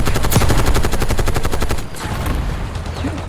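Rapid bursts of automatic gunfire in a video game, loud and continuous for most of the clip, then easing into a quieter rumble of distant shots near the end.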